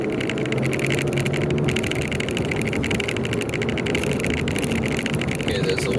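A steady, loud hum of road and engine noise fills the cabin of an Infiniti Q50 with a Hotchkis sway bar as it drives along an open road, unbroken throughout.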